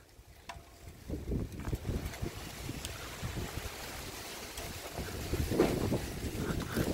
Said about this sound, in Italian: tira un po' di vento oggi